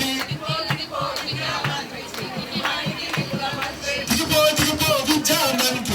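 A large crowd of students at a protest in Dharna Chowk chants slogans in loud, rhythmic unison, voices rising and falling together with an energetic, shouting edge throughout.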